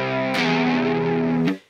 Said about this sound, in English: And the distortion part plays like C.